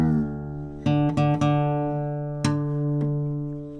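Acoustic guitar being retuned at a live session: a single string is plucked several times and left to ring, each a clear sustained note, close and moderately quiet with no talking.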